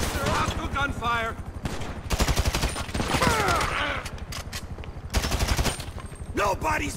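Rapid automatic weapon fire in Grand Theft Auto V, repeated loud volleys broken by short pauses, with character voices talking and yelling over the shooting.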